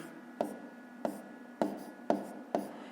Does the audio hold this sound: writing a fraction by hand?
yes